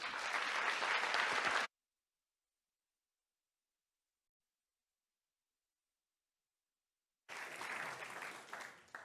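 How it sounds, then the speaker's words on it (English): An audience at a talk claps steadily, then the sound cuts to silence for several seconds before another burst of clapping resumes. "Please give a warm round of applause for Professor Dr. Paul Cumming."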